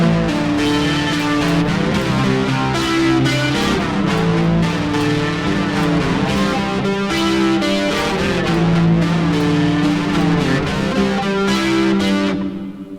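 Electric guitar playing a riff through a chorus and distortion effect, a steady, loud, continuous riff layered with an added guitar part, with no talking.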